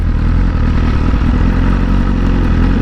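A motorcycle set to race mode runs with a steady, loud, deep engine rumble and a mechanical clatter throughout, close by, with no talking.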